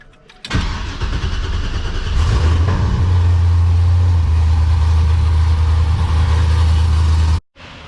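A car with a battery prone to draining cranks briefly, then catches and settles into a steady, loud, close idle that runs for several seconds before cutting off abruptly.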